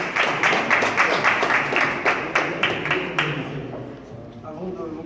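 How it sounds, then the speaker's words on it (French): Audience at a press conference for a festival tournament applauds the festival director, a dense, fairly loud burst of clapping that holds steady and then tapers off toward the end. "Je vous demande d'applaudir, c'est le directeur de festival."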